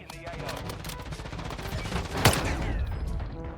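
Rapid automatic gunfire rattles through a Warzone Mobile firefight in quick repeated bursts, with one louder, sharper shot standing out near the end over a busy mix of game noise.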